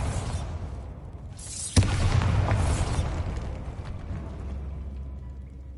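Bombarda spell explosion in the video game Hogwarts Legacy: a sudden sharp blast with a deep boom that rolls on into a long rumbling, crackling tail, fading slowly over several seconds.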